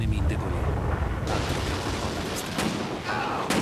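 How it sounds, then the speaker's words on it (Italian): Gunfire rings out in the Alan Wake video game, with bursts of shots and rumbling blasts layered over a dense, loud game soundscape. "Ci sono degli spari là."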